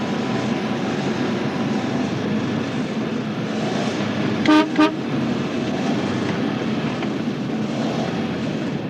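A Bates car engine runs on methane gas, a steady, close engine drone that holds throughout, broken briefly near the middle by two short honking bursts.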